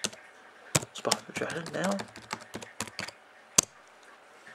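Computer keyboard typing comes in uneven clusters of sharp clicks, fairly quiet and close, with someone talking briefly between the keystrokes.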